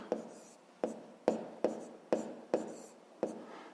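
Numbers are written by hand with a pen on paper while solving a fifth-grade decimal addition problem, seven quiet, evenly spaced taps and short strokes, close and soft.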